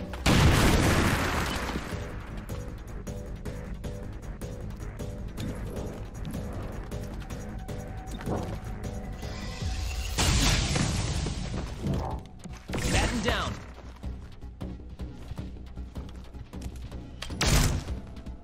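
A frag grenade goes off in XCOM: Chimera Squad, a sharp crashing blast near the start over game music, followed later by a few shorter crunching impacts.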